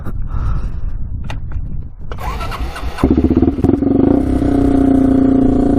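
A cheap used 4x4 ATV engine is cranked, then catches and fires up, settling into a loud, steady idle with clattery exhaust right up close.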